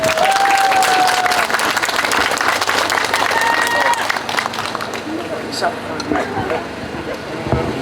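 A political campaign rally crowd in Korea breaks into loud applause to welcome a young speaker, strong at first and tapering off, with a few whistles and shouts mixed in.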